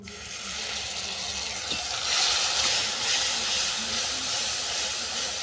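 Ground spice paste hits hot oil that has been tempered with chili and bay leaf for a vegetarian soybean curry, giving off a loud, steady hiss of sizzling that swells after a couple of seconds and carries on without any talk.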